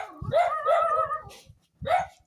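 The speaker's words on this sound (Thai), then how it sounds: "มันมาเห่าอะไรกันนี่" A dog barks close by: a longer, drawn-out bark, then after a short pause a second, shorter bark, with quiet surroundings around them.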